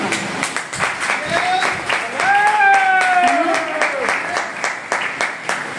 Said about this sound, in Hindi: ये वो लोग ताली बजा रहे हैं जो जानते 432 रुपए की कीमत क्या रही होगी।